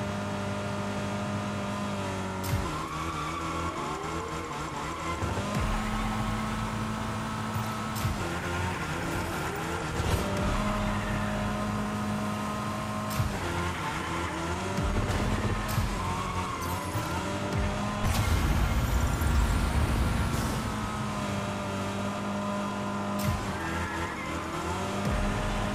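Racing cars in the video game Rocket Racing, with engines droning and rising in pitch through repeated revs and shifts, tires squealing and skidding, loud and continuous for the whole stretch with no talking.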